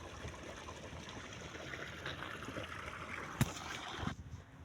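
Water flows along an irrigation channel in a field, a steady close trickle and gurgle with one sharp knock near the end before the sound drops away.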